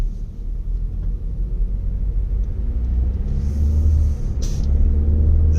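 A car engine running on freshly changed motor oil while driving in traffic gives a steady, close, low rumble that continues throughout with no talking.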